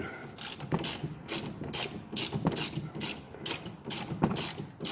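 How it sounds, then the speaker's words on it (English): A hand ratchet clicks in quick, repeated strokes as a pinch bolt is backed out of the upper ball joint on a 1999 Ford Explorer 5.0, the clatter close and steady with short pauses between bursts. "Take the pinch bolt out of the upper ball joint."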